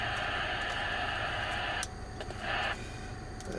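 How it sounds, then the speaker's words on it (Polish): Steady static hiss from a CB radio mounted in a car, fitted with a Sirio Turbo 5000 antenna, fills the whole clip as a continuous broadband rush that dips and swells briefly partway through, with no voices. "Radio szumi jak każdy."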